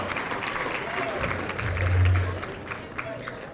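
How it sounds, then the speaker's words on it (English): A round of applause from the crowd at a school all-sports banquet, clapping that swells briefly in the middle and then thins out, with a speaker's voice heard over it. "Would you please give these people a round of applause?"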